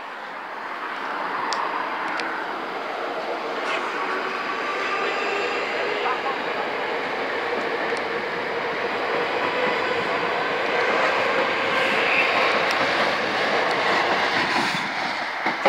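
Trains pulling away from the Wokingham level crossing, a steady rumbling roar with rolling wheel noise that swells slightly over time, heard at moderate distance with a person talking over it.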